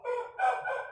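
A game rooster of the Gallus breed crows once, a short, close call with a rising then sustained tone and no other sounds around it.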